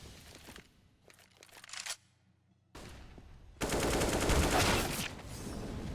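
Gunfire during a professional Counter-Strike match between Eternal Fire and GamerLegion, with bursts of rapid shots, a brief lull, then sustained loud firing and clatter toward the end.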